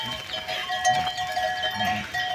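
A herd of goats bleating in short, overlapping calls against open outdoor background noise, with a faint bell-like clink mixed in, fairly close and loud.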